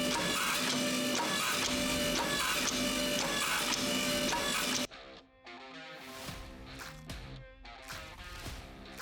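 A hydraulic press flattens a forged knife blade, giving a loud, steady mechanical whine for about five seconds that cuts off abruptly into quieter, irregular clunks and hum.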